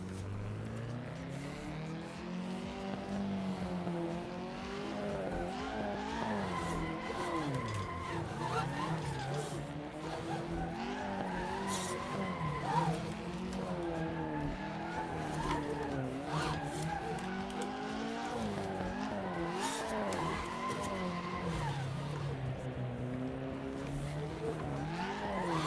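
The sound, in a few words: drift car skidding under easy throttle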